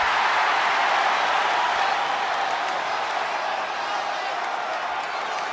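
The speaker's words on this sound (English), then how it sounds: "and the crowd loved that one" A wrestling crowd at a SmackDown show cheers and applauds after a women's match, a dense, steady roar of clapping and shouting that fills the arena and fades slightly toward the end.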